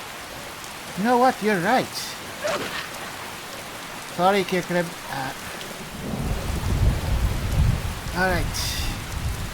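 Steady rain falling with a low rumble of thunder in the video game Skyrim, a constant hiss under intermittent talk and a swelling roll of thunder partway through.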